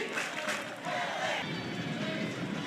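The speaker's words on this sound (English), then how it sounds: "Crowd very much alive in the series finale." The crowd at a Purdue versus UCLA college softball game, a lively murmur of fans with a few shouts beneath a commentator's voice.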